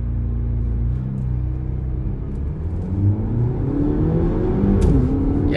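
A 2022 Haval H6 GT launches hard, its engine rumble building into a rising, revving whir from inside the cabin, loud and continuous with no talk.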